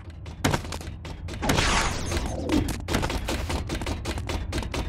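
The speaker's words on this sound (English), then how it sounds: "Even more fireworks." Fireworks in Epic Mickey 2: The Power of Two go off as a rapid, dense series of sharp pops and crackling bursts, loud and close, with a brief whooshing swell in the middle and no voices.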